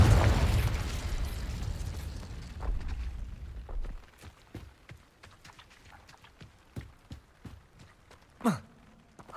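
A Confringo spell explodes in Hogwarts Legacy, a loud burst at the start that rumbles and fades over several seconds, then footsteps and small clicks, with one sharp swell of sound near the end.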